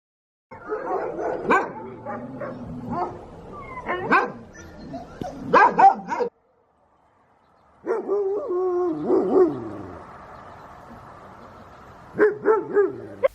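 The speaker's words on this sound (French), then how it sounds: "On fait alors un petit tour dans la ferme qui compte pas moins de 250 chiens." Many sled dogs bark at a sled dog farm home to about 250 dogs: loud, overlapping barks and yips close by, a short quiet gap midway, then more barking with a few whimpers.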